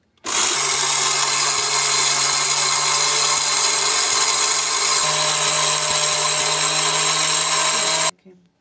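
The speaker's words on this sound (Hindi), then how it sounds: "तो हम इसको ना अब ग्राइंड कर लेंगे" An electric grinder pulverizes tikka masala spices in a small container, its loud steady motor whir running for about eight seconds before stopping abruptly.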